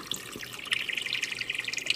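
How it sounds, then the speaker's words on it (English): Ice water splashes and trickles into a bowl of freshly churned homemade butter, a close, continuous bright pouring with light drips and no talk. "So that's where we bring in our ice water. When I dump in,"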